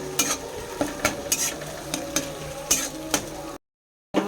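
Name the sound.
chopped tomatoes frying and being stirred in pan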